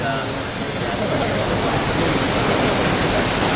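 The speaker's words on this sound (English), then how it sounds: "this is obviously going to be a second plane. This is the E2C. This is the Hawkeye 2000 variant." An E-2C Hawkeye 2000 turboprop plane on an aircraft carrier deck, a loud, constant engine roar that fills the whole stretch without letup.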